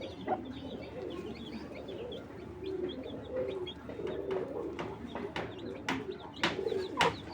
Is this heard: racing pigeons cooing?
yes